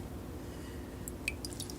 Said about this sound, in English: We let any of the excess drip off,